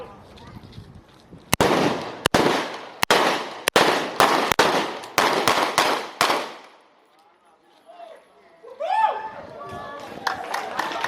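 Gun volley fired in salute to a fallen hero: about a dozen sharp, loud rifle reports in an uneven rapid sequence, each with a trailing echo, followed by quiet and then shouted voices.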